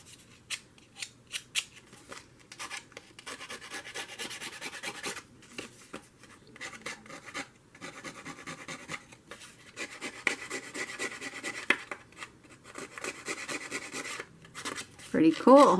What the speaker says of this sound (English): Just go round and round with some scissors.